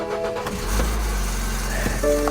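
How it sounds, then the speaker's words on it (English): A 2022 Honda Civic engine running with a suspected exhaust leak or missing exhaust heat shield, giving a steady low rumble with a few brief ticks, heard close up inside the car. "Got an exhaust leak, I think."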